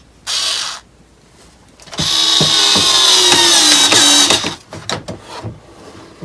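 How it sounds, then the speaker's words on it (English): A Bauer 4-volt lithium-ion cordless screwdriver whirs loudly as it drives screws to fasten a shield, giving one short burst, then a long steady run that ends in stuttering pulses as it stops and restarts. "I've got the 4-volt lithium-ion screwdriver from Bauer"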